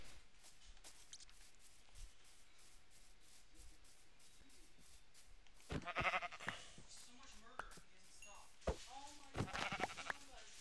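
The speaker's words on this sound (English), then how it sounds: "So, we're gonna get some sheep." Sheep bleating in Minecraft, a few short wavering bleats standing out in the second half over quiet rubbing and shuffling game sounds, with people talking during it.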